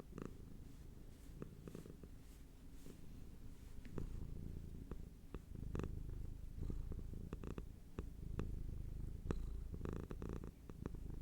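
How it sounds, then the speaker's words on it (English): A cat purrs softly and steadily up close, the rhythmic rumbling continuing for several seconds with faint rustling in between. "Those were some really good purrs."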